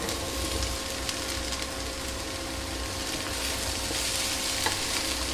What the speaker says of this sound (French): Après 2 minutes de cuisson, je vais ajouter les courgettes.